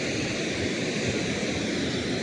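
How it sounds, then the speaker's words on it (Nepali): Steady rushing of a river, the Kankai, flowing at Domukha in Jhapa, Nepal, a continuous even roar without talk. "यो खोलाको आवाज"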